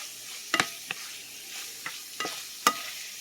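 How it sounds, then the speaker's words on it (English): Sausage fries in a pan with no added oil, giving a low steady sizzle broken by a few sharp scrapes and clacks as it is stirred. "Our sausage is almost cooked."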